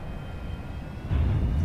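An aircraft lands in the X-Plane 11 flight simulator: a low engine drone runs steadily, then a louder rumbling surge of touchdown and rollout follows near the end, with no voices.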